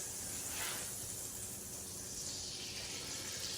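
Steady hissing sizzle of batter frying in hot butter, continuous and fairly close, with no talking.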